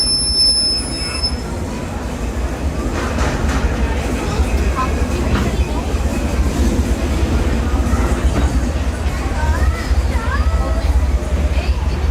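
The Disneyland Railroad train rolls steadily along the track with a constant low rumble, occasional wheel squeals and clacks, continuous and close throughout.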